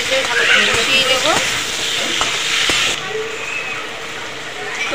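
Grated tomato sizzling and being stirred with potatoes and green beans in a pan, loud continuous frying hiss with clicking spoon scrapes, easing after a few seconds.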